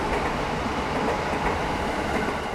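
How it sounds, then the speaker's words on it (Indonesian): A train passes on railway tracks in Jakarta, a dense, steady roar of wheels and carriages at close range filling the whole moment without pause. "Ini sekarang kereta nih lewat."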